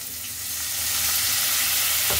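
Soy sauce hits a hot pan of paneer Maggi with a steady, building sizzle that stays close and loud to the end, no talking over it.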